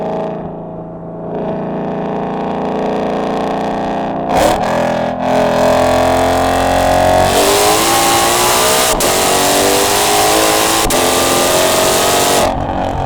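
A 2020 Ford GT500 fitted with a Lethal track exhaust, loud and close, idling before being revved hard into a sustained roaring, crackling engine note with sharp bursts between revs.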